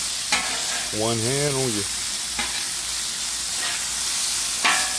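Garlic sizzling and being stirred on a Blackstone flat-top griddle, a steady frying hiss with occasional scraping strokes, while a voice briefly speaks over it.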